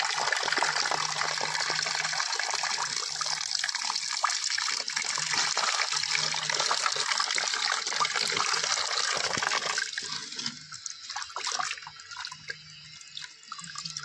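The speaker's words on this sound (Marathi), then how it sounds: "आता हे स्वच्छ धुवून घेऊया कासा पाण्याने" Running water splashes steadily while mackerel is washed by hand, with sloshing and dripping that thins out toward the end.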